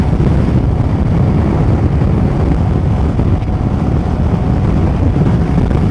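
A Suzuki V-Strom 250 motorcycle cruises at 70 mph and 9,000 revs in wind and rain, a steady, loud engine drone blended with heavy rushing wind noise throughout.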